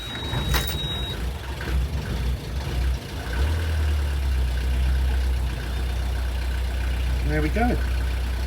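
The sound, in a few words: boat engine starting and idling on the Norfolk Broads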